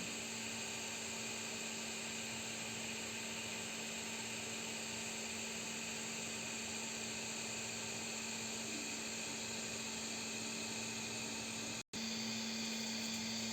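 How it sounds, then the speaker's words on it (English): A 3D printer runs auto bed leveling, a steady mechanical whine and hum with a constant motor drone, broken by one very brief dropout near the end. "Auto bed leveling is going on."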